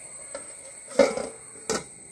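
A lid goes onto a steaming clay pot of ivy gourd peera with two light ceramic clinks, the second a brief knock, over a quiet kitchen background.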